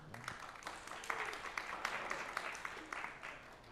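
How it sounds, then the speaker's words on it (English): Audience applause at a bilingual leadership event on football and business, a steady wash of clapping at moderate level, with a few faint voices underneath. "let's give them applause"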